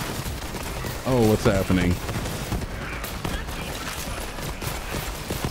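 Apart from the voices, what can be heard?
automatic gunfire in the video game Borderlands 3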